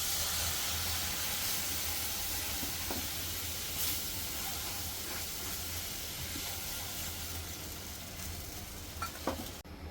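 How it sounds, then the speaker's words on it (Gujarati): Milk poured slowly into flour (maida) roasted in butter in a pan, giving a loud, continuous sizzle and hiss with soft stirring scrapes throughout. "હવે આની અંદર આપણે દૂધ નાખશું ધીરે ધીરે"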